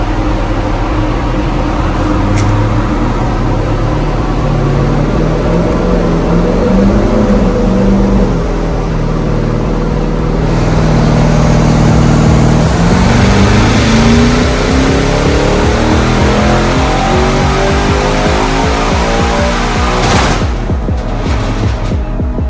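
A tuned Audi RS7 making around 786 wheel horsepower revs hard on a dynamometer. The loud engine note climbs steadily through a long pull, then sharp pops and crackles come near the end, with no talk over it.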